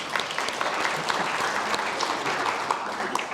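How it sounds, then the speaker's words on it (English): Audience applause at a testing conference, a steady wash of clapping heard throughout without a break. "Round of applause for these people, please."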